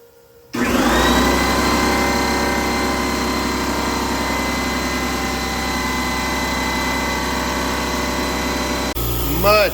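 A Harbor Freight Fortress direct-drive, non-belt air compressor starts abruptly and runs with a steady, loud motor hum and whine, then stops near the end with a short clatter.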